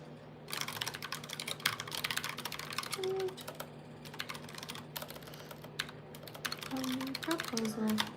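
Rapid clicking of keys on a computer keyboard, typed in steady irregular bursts at close range, with a low room hum underneath and a few faint tonal chirps in the background.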